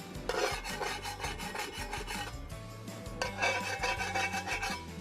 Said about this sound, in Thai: เดี๋ยวเรามาลองขูดกระทะกันเลยว่า ไม่หลุดไม่ลอกจริงไหม